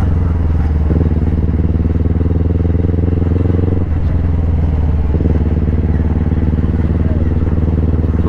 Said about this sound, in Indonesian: Itu bunyi rantainya kedengaran sekali itu.